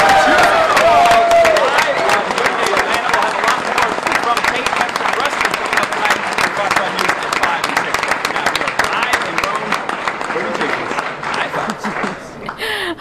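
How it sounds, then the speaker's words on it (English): Loud, sustained applause from a large crowd with scattered cheers and whoops, steady throughout before thinning slightly at the end. "Hard to hear you over the roar of the crowd."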